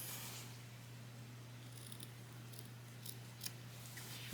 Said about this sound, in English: I am going to trim the corners.